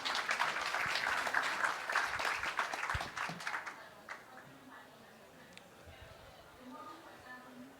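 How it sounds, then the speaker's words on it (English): Audience at a digital tech summit breaks into loud, dense applause for about four seconds, then the clapping thins out into scattered claps before fading into quieter room sound. "Please give them a big applause,"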